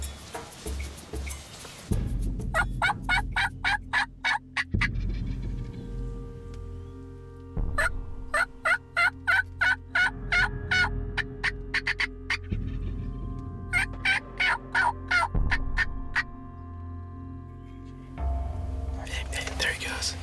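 Wild turkey gobbles ring out outdoors in repeated rapid bursts, several loud volleys spaced a few seconds apart, with steady low background rumble and hushed whispering between calls.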